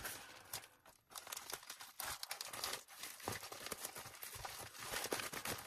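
Scissors cut open a mail-order package of journaling supplies, giving quiet, uneven snips mixed with crinkling packaging and handling noise, with no talking.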